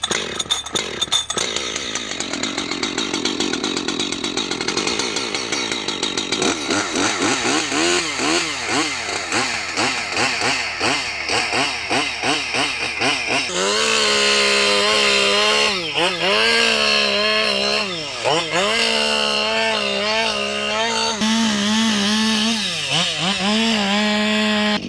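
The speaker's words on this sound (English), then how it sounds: "let's fire up this Husqvarna chainsaw and do some cutting" A Husqvarna chainsaw cuts willow and dead ash timber, its engine roaring loud and close throughout, the pitch dipping and rising repeatedly as the chain bites into the wood.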